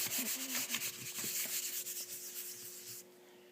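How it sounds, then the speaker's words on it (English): Fingers rub talcum powder into a piece of rubber, making close, dry, scratchy strokes in a quick back-and-forth rhythm that run for about three seconds and then fade into a quieter tail. "you just rub it in"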